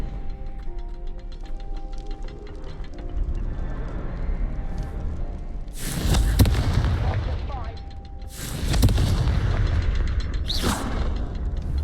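Two bursts of a Confringo fire spell cast in Hogwarts Legacy, each a loud, broadband crackling blast about two seconds long, heard over a quieter ticking, humming game ambience.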